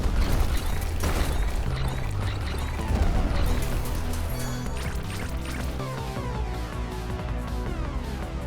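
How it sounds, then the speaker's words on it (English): Layered booms and bursts of explosions from a stick-build fire and poison run in the roguelike game R.I.C.E., a dense, continuous barrage of blasts with background game music, loud throughout. "We get explosions on explosions on explosions"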